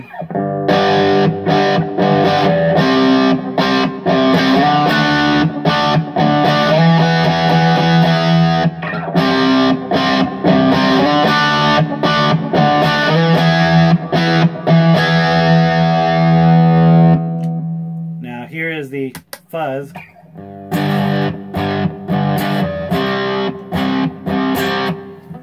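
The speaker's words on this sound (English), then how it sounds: "Okay, now here is the distortion." Electric guitar played through an Egnater Tweaker amp with distortion, loud thick strummed chords ringing in sustained phrases, a pause with a fading note, then more chords.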